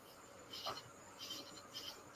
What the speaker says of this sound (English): I keep hearing the damn crickets out there.